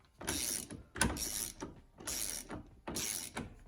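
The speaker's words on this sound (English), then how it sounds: "And this one was like ratchet. Quickly." Ratchet wrench clicking in four quick bursts of rapid metallic ratcheting, close and loud, while a steering wheel nut comes off inside a Chevy truck getting an Escalade interior conversion.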